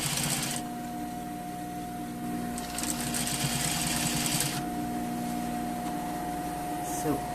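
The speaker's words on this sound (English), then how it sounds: "I'm pushing the fabric to make sure I grab only this side of the pant, and I'm sewing down" A sewing machine stitches a pant seam in a close, steady, humming drone that runs through the whole stretch, with a brief louder burst of stitching partway through.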